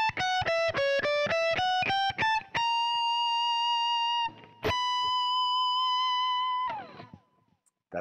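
Distorted electric guitar plays a solo as a metal lead, a run of fast picked notes climbing up the neck, then long sustained bends and held notes before fading out.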